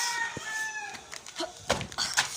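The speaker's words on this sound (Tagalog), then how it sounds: "Papakain tayo ng ating manok." Chickens, with a rooster among them, clucking and calling in quick, uneven bursts close by at feeding time.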